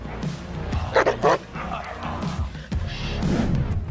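A Neapolitan mastiff gives a few short, deep barks and yips close by, held back on a leash, with a person talking over and between them.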